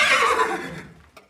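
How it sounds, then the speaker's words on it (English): A horse gives a loud, close whinny that starts high and bright, then wavers and fades over about a second, with a faint trailing snort at the end. "That's right, the horse."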